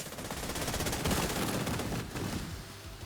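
Sustained automatic gunfire, dense overlapping shots forming a continuous loud rattle near a turbine entrance, steady throughout with no speech.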